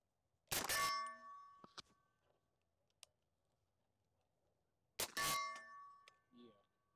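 Two suppressed rifle shots, each followed by a sharp metallic clang from a steel target at 35 yards, outdoors; each shot is a loud muffled burst with a ringing ping, with faint voices in between.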